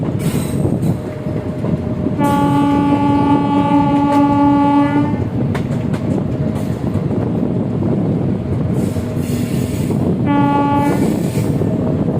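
The Shalimar–Porbandar SF Express, train 12906, rumbles steadily along a single line between Rajkot and Jamnagar, sounding two loud, sustained horn blasts: a long one early and a shorter one later over continuous wheel noise.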